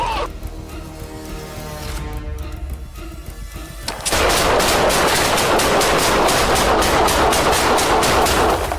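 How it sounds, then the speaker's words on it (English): Rapid gunfire erupts during a police confrontation, a dense burst of many loud, close shots fired in quick succession after a few seconds of muffled, tense sound, with no talk over it. "Yeah, shots fired!"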